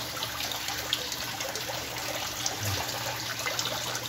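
Water runs through a hole and trickles into a crayfish tank, a steady low splashing flow heard alone at moderate level with no talking.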